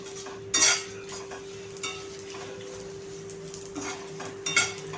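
Masala dry-roasting in a pan on medium heat for Nagpur-style Saoji chicken, stirred with a metal utensil that scrapes and clinks against the pan in a few distinct bursts over a quiet background hum.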